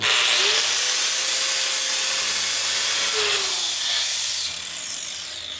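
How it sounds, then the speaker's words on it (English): Angle grinder with a fresh disc cleaning a metal surface before welding, a steady loud high hiss of abrasive grinding that runs for about four and a half seconds, then drops off as the tool winds down. "Now what we gotta do is grind."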